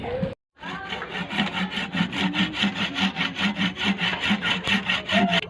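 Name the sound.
hand saw cutting a miracle fruit in half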